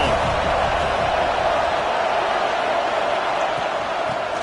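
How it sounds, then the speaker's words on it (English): Steady stadium crowd roar at a college football game between USDA and Florida, a dense continuous wash of many voices filling the space, loud and unbroken with no distinct calls standing out. "This crowd ready to make its presence known."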